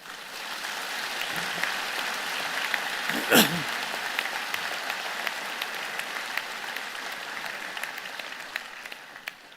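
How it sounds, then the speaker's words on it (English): Sustained applause from a large audience at a university convocation fills the hall for graduates, a dense even roar of many hands with faint voices mixed in, tapering slightly toward the end. "So a round of applause for our graduates."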